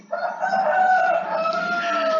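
A neighbour's rooster crows once, loud and close, in a long drawn-out call with no other sound.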